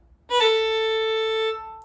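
A single sustained pitched note in a beginner music theory lesson, preceded by a quick grace note at its onset; it rings alone, clear and steady, for over a second before cutting off.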